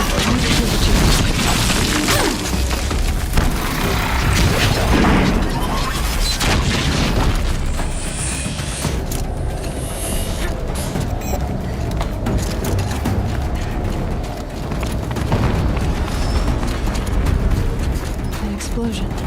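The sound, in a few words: explosion in the video game Horizon Zero Dawn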